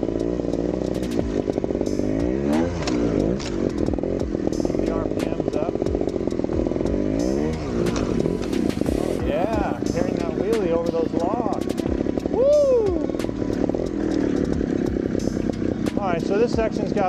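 A trail motorcycle picks its way along a hillside track between trees and uphill, its engine loud and near, revving and blipping in uneven swells with pitch sweeping up and down, while a rider speaks over it.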